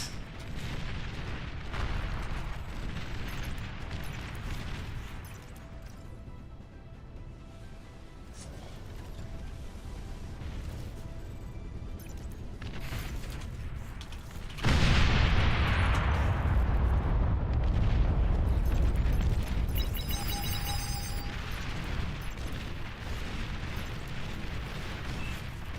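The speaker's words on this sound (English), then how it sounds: "Nuclear missile launch detected." Nuclear missile blasts in a video game: a sudden, heavy explosion bursts in midway and leaves a loud, rumbling roar after quieter mechanical game sounds.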